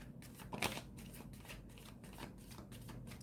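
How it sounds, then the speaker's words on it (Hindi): Tarot cards are shuffled by hand in a quick series of soft, rhythmic riffling bursts, close and quiet, with no voices. "देखो कैसे शफल होते हैं कार्ड्स"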